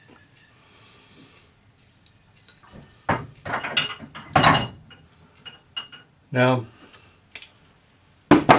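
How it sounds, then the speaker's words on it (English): A cross pane hammer strikes a folded metal cuff along its ridge, giving several sharp, loud metallic blows in irregular bursts, with brief speech at the start and quiet pauses between strikes. "most of our hammering will be on the ridge because I want it to curl that way"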